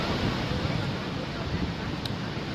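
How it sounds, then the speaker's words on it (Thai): Strong wind blows hard at the sea, a dense, steady roar of gusting noise buffeting the microphone, with surf blending into the constant rush. "ลมแรงมาก"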